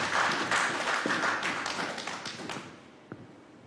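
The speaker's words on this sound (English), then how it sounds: "Let's clap for the word." A church congregation claps together, a quick roomy burst of hands that fades after a couple of seconds into a few stray taps and a soft thump.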